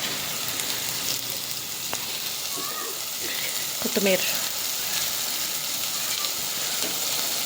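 Tomato masala fries in a pan on a high gas flame, giving a constant close sizzle with occasional stirring scrapes and brief faint voices.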